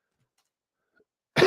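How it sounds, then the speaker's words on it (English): A man gives one short, harsh cough at close range after near-silence, at the very end. "I apologize for the cough."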